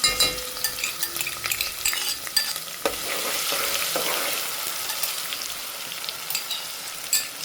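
Whole spices, ginger and garlic sizzle and frying in a pan for soybean biryani, a steady close hiss with scattered crackles and stirring scrapes throughout, no talk.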